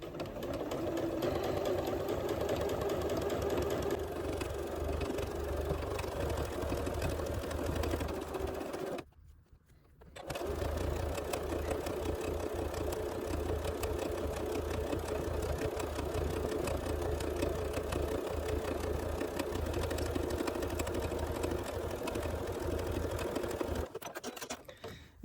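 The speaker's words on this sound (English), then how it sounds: "I'm just going to place the edge of my presser foot on the raw edge of my fabric and stitch away." A sewing machine stitches fleece fabric for a beret in a long, steady, rapid run of needle strokes, stopping for about a second partway through and then carrying on at the same even pace.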